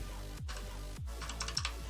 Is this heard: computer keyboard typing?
yes